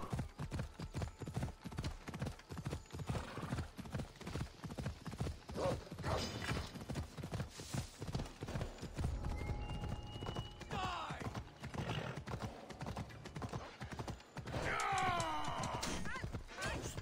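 A horse's hooves clip-clop steadily in the Assassin's Creed Odyssey video game, a continuous rhythmic trot with occasional neighs and other game sounds over it.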